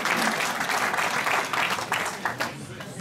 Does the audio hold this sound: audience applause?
yes